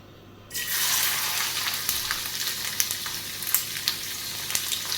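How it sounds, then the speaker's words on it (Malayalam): Okra drops into hot oil and a steady, crackling sizzle starts abruptly, continuing with small pops and spits throughout. "ഈ വെണ്ടയ്ക്ക നമുക്ക് എണ്ണയിലേക്ക് ഇട്ട് കൊടുക്കാം"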